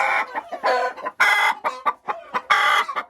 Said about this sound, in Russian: Снесла яйцо и сообщает.